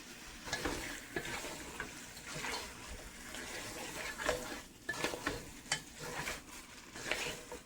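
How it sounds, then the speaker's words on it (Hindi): Lamb chop masala with ginger being stirred in a pan over medium-low heat, with soft sizzling under repeated scraping and clinking strokes of a spoon against the pan, close and moderately quiet. "और अदरक डालेंगे और इन सब को हम अच्छी तरह से मिक्स करेंगे।"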